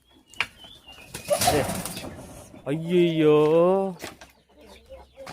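Guinea fowl flap and flutter noisily up close while people shout and exclaim over the commotion.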